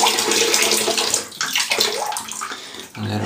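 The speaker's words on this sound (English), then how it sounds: "Now I wet my face." Water splashes and pours as it is scooped and slapped onto a face at a basin before shaving, a close, loud wet rush with a few gurgles and a brief lull near the end.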